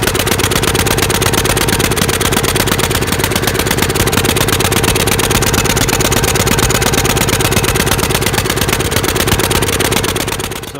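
A 5665 engine with carburetor trouble running at a loud, fast, steady idle, close and continuous with a rapid even pulse, no voices, fading slightly at the very end.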